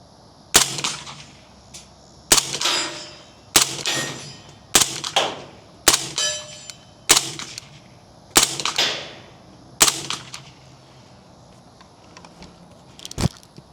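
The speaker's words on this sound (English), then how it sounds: "right now I'm going to shoot some 124 grains FMG ball ammo" Century AP5 SD suppressed pistol firing 124 grain FMJ ball ammunition outdoors at a range, about eight sharp, loud shots at roughly one-second spacing, each ringing out briefly, with one more shot after a pause.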